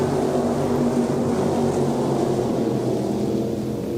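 Stock cars race around an off-road dirt speedway on Independence Day, a continuous loud engine roar from a pack of cars that holds steady without breaks.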